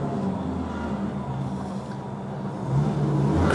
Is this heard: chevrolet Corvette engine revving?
yes